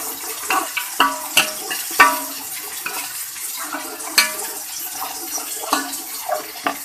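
Onions browned with chili masala, ginger garlic paste and tomatoes fry and get stirred in a pan, giving a soft wet sizzle broken by scattered scraping clicks, close and moderate, with no talking.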